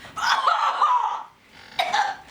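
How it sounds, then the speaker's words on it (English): Two deep, rough chesty coughs, the first long and rattling, the second shorter after a brief pause, close up. "Sorry, chesty coughs."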